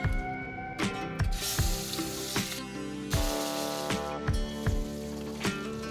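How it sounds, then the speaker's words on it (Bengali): Prawns shallow-frying in hot mustard oil, a loud, close crackling sizzle with repeated sharp spits and pops over a steady hiss, with metallic clinks of utensils and no talk. "বাকি চিংড়ি মাছগুলো ওই তেলের মধ্যে ভেজে নিচ্ছি"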